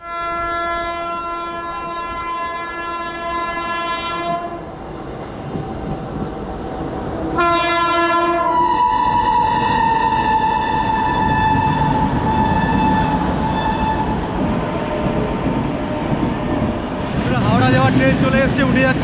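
A train bound for Howrah rumbles at platform three of a station, with long sustained horn blasts sounding loud and close over the steady noise of the rails.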